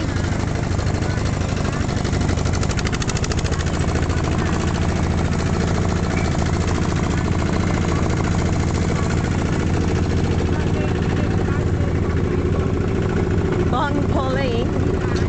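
A tractor taxi in rural Battambang, Cambodia, runs with a loud, unbroken engine drone that fills the whole stretch, with voices faintly audible beneath it.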